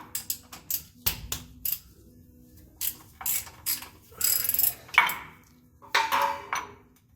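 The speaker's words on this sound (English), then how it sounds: "So you have to use an extension on that to get this plug out." Ratchet wrench with an extension loosening the gear oil plug on the hub of an Oshkosh MTVR 7-ton 6x6 truck: sharp clicking bursts in short irregular runs, close up, with metallic pings and no talking.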